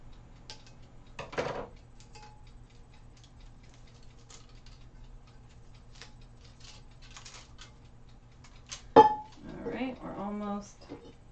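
Metal tongs handling hot sublimated skinny 20oz tumblers: a couple of clinks and scrapes from metal meeting metal, with a longer quiet stretch between them and brief speech near the end.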